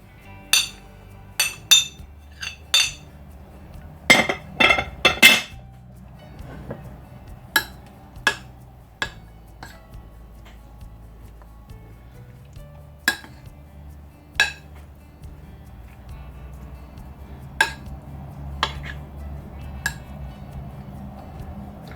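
Vegetables and mozzarella cheese being stirred in a bowl, with a steady run of sharp utensil clinks and taps against the bowl, spaced irregularly with brief clusters, close and fairly loud with no talking.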